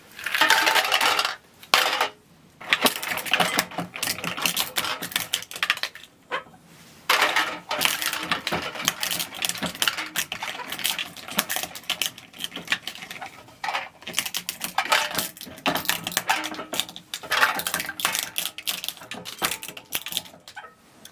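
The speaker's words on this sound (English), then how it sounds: "we're gonna crack some English walnuts" English walnuts cracking in a grain mill: a busy, continuous rattle of hard shells snapping and clattering against metal, with brief pauses, close and fairly loud throughout.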